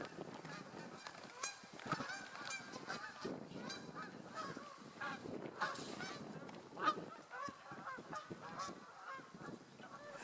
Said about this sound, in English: I think they're the geese that, they always hang out at the marina.